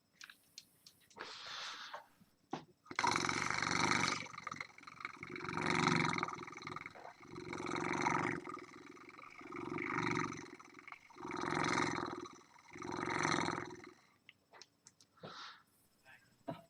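A cat purrs close up in slow, rhythmic swells, each breath cycle rising and falling, with brief quiet gaps between.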